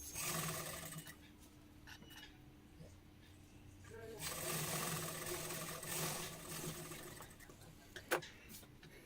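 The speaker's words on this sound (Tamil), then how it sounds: "ரெண்டு சென்டர் பாகத்தையும் சேர்த்து வச்சு ஒரு தையல் போட்டுக்கலாம்" A sewing machine stitches a seam joining the centre panels of a pleated pavadai skirt. The rapid mechanical whirring is faint and swells in bursts midway, with soft background voice and room noise.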